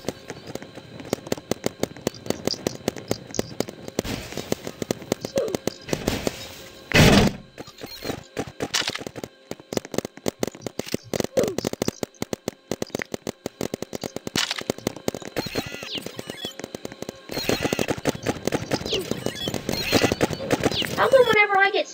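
Paintball guns firing in a Roblox Big Paintball match, rapid clicking shots in dense bursts over about twenty seconds with brief pauses and a few louder thuds, with a voice talking throughout.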